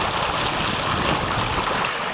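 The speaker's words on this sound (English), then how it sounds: "Water running off that stream or brook or creek" A spring brook or creek running through a flood meadow, giving a continuous broadband wash of flowing water that stays close and steady throughout, with no talking.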